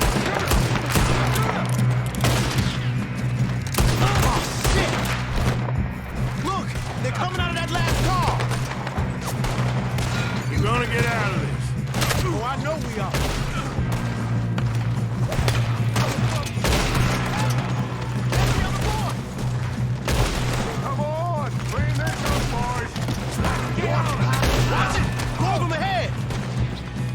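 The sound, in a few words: gunfight in Red Dead Redemption 2 video game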